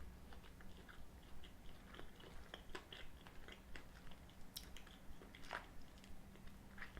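Someone bites into a Snickers Peanut Butter bar and chews it close to the microphone, with soft crunches, sticky squishes and small clicks spread irregularly over several quiet seconds, with no talking.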